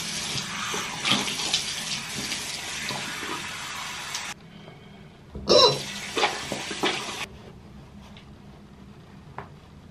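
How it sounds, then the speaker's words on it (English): Tap water runs in a bathroom sink during face washing, a steady broadband splashing that stops partway through, returns for a short burst, then goes quiet, with a brief cough or throat clearing mixed in. "So I washed my face"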